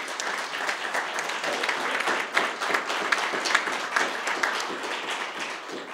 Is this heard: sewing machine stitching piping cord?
no